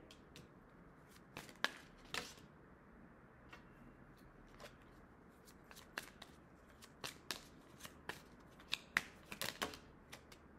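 Cards shuffled and handled during a tarot-style reading, quiet crisp riffles and flicks scattered irregularly over a low room hiss.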